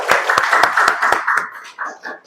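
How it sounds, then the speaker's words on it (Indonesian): About six sharp hand claps ring out in a quick, even rhythm in a teaching session, close and fairly loud, over and then giving way to a voice talking. "Oke, tepuk tangan lu"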